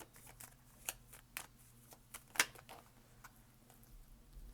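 Tarot cards are shuffled and drawn, producing faint, soft riffling and light snapping ticks in a scattered rhythm close by, with one crisper snap midway and a low hum underneath.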